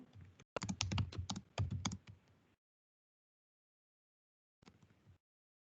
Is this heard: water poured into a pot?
no